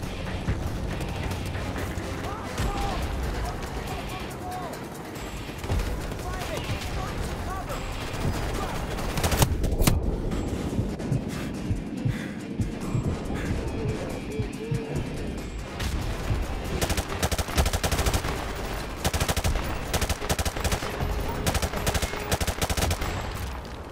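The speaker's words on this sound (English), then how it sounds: "Mortar fire! coming!" Mortar blasts and sustained gunfire in Call of Duty: Modern Warfare Remastered, with dense rattling bursts, heavy booming impacts and debris crashes rolling on continuously with loud battle clamor.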